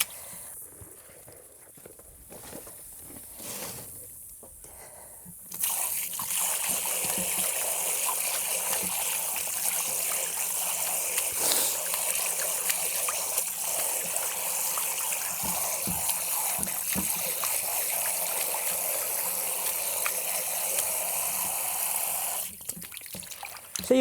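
Tap water runs steadily into a sink while muddy sweet potato leaves are washed, a loud even rush starting after a few seconds of quieter handling and splashing, then cutting off near the end.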